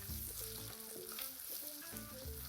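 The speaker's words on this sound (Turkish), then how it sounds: "Şimdi hepsini güzelce karıştırıyorum." A cinnamon-spiced filling for stuffed zucchini flowers sautés in a pan, with a faint continuous sizzle and light stirring under steady tonal background sound, likely music, and no talking.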